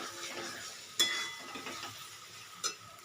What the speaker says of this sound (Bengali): আলুগুলো দিয়ে একটু মশলার সাথে কষিয়ে নেব।